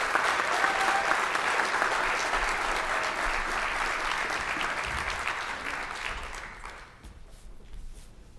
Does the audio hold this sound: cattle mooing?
no